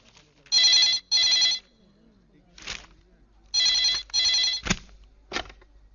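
An old-style telephone ringing in a 2000 Bollywood film scene, two double rings in bursts, clear and prominent, with sharp thuds and brief voices in the gaps.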